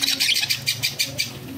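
Caged white Java sparrows call in quick bursts of bright chirps and tweets, close and fairly loud over a faint background hum.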